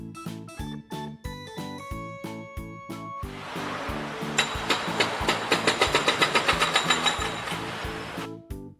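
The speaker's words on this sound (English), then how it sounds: "Jackhammer." Jackhammer pounding in a rapid, rhythmic stream of close, loud hits that starts after a short run of musical notes and stops sharply at the end.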